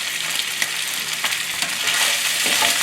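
Thai chicken fried rice stir-fried over high heat: a loud, steady sizzle with scraping and clattering stirs throughout, close and continuous.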